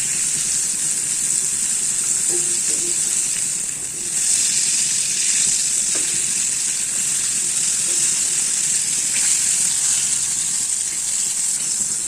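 Broasted chicken pieces, two at a time, fry in oil in a small home pan, giving a steady, close bubbling sizzle that runs unbroken throughout with a few soft clinks and no talk.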